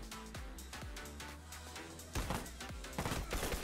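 Gunfire in The Last of Us multiplayer match: a string of sharp, close shots with ringing tails, a couple of heavier bursts near the end, no talk over them.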